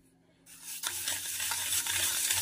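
A bowl of water with sugar is stirred with a mixer to dissolve it: a quiet start, then a close, continuous swishing hiss with faint rhythmic pulses and no voices.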